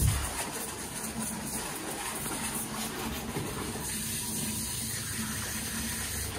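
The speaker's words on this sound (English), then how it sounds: "you just rinse it with normal water" Water running steadily as shampoo is rinsed out of an Afghan hound's long coat, a soft continuous hiss and splash with a faint high tone, no talking.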